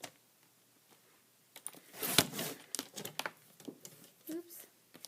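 Paper being snipped and crinkled with scissors while a pattern is trimmed down, bursts of close rustling and cutting spread across the moment alongside a brief spoken remark.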